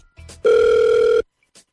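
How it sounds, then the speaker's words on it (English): A telephone call rings out once as a loud, steady electronic tone lasting under a second, preceded and followed by brief bits of speech. "we're going to call him for you, and hopefully he'll pick up the phone"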